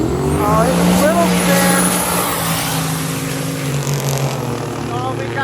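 A drag racing car makes a pass on a drag strip with a slippery track surface, its engine a sustained droning roar heard from a distance, while people talk nearby over it.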